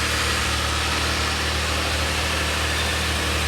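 A DeLorean engine idles steadily during fuel, lambda and idle troubleshooting, giving a continuous close rumbling drone with a faint rapid pulsing and no change in pitch.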